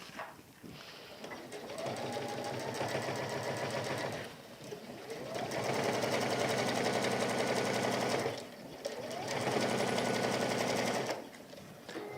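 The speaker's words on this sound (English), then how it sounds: "And just top stitch down." Sewing machine top-stitching a small fabric pouch, three bursts of rapid, even mechanical stitching separated by brief pauses, close and clear.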